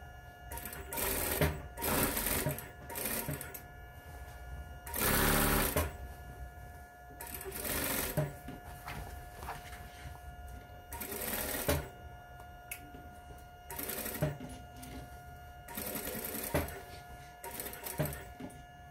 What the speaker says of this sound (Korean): 저는 조기를 붙여서 박음질 해보도록 하겠습니다